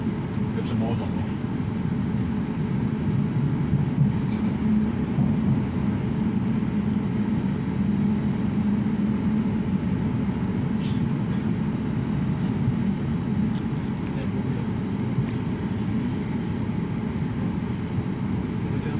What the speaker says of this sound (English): Train is now approaching its final stop.